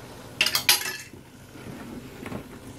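Worm castings tea being stirred in a bucket, a few sharp clinking, scraping knocks close up early on, then a softer sloshing rustle trailing off, no talk.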